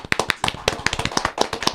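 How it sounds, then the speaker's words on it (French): A few people in a studio clap unevenly, with sharp, distinct claps in a loose rhythm, close and moderately loud. "On applaudit ou pas?"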